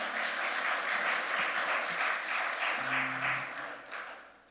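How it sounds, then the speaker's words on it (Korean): Congregation applauding during a Korean-language Sunday worship service at a Korean United Methodist church, a steady wash of many hands clapping at moderate distance that holds for several seconds and then tapers off. "우리 하나님 앞에 축복의 박수 올려드리도록 하겠습니다"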